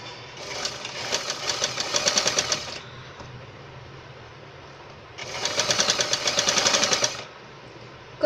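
A sewing machine stitches a Katori blouse in two runs of fast, rhythmic needle clatter of about two seconds each, separated by a quiet pause with a steady motor hum underneath and no talking.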